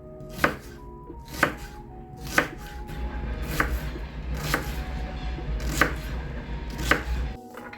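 Sharp knife chops through an onion on a cutting board, about seven evenly spaced strikes roughly a second apart, close and clear with a low background hum.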